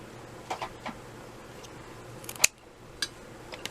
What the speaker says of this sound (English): And then I just eyeball it and cut it in half.